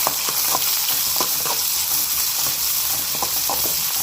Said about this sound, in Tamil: இது எல்லாமே நல்லா பொரியுது.